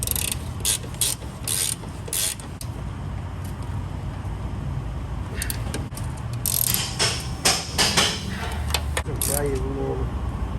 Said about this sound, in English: now I just gotta get these 3 18mm nuts tightened up.